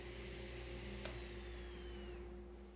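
A saw runs at a steady, loud whine with a constant motor hum while a board is squared off and cut to length using an Incra miter gauge with a flip stop, and no one is speaking.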